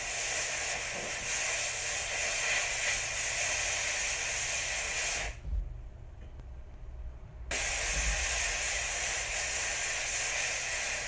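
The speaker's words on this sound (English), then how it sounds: "then steam them off with a high-pressured steam. That blows any remaining compound or damaged debris off." High-pressure steam jet blasting gold and diamond wedding rings clean, a loud continuous hiss that drops away for about two seconds midway, then resumes at full force.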